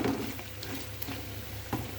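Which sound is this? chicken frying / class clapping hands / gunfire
chicken frying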